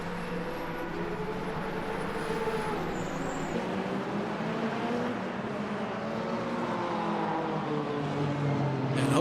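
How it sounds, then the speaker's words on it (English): Hypercars rolling out onto the Imola circuit, a steady engine drone with shifting tones heard from a distance, fairly faint and continuous, no talking. "the hypercars are officially rolling out onto circuit. And the roar of the cars is loud"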